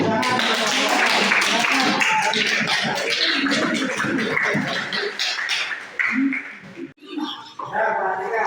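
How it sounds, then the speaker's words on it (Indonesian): Students in a classroom clap their hands together, a dense burst of many hands lasting several seconds, with chatter and voices mixed in and a brief dip before the noise resumes. "Tepuk tangan."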